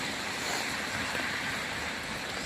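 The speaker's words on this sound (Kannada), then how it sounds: "ನೀರೆಲ್ಲ ರೋಡಲ್ಲೇ ಹೋಗ್ತಾ ಉಂಟು" Rainwater runs along a road during heavy rain in Israel, making a steady, faint broadband rush and hiss with no distinct events and no voices.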